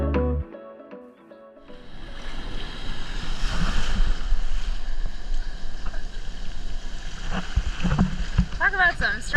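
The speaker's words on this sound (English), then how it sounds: "Talk about some strong waves." Strong ocean waves breaking at Cerritos Beach in Mexico, a loud rushing surf wash rising after a quiet start and rolling on continuously with wind noise on the microphone.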